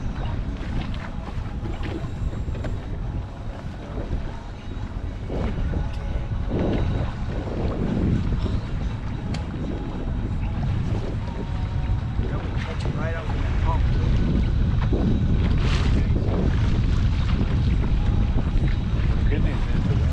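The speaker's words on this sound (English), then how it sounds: "Good news is the wind's blowing into this shoreline." Steady wind gusting across a lake around a fishing boat on a choppy day of walleye fishing, a constant loud rushing roar with buffeting on the microphone throughout.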